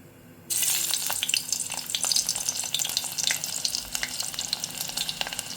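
Crushed garlic dropped into hot oil for tempering, a sudden jump from quiet to a loud, dense sizzle that continues with crackling pops before easing slightly.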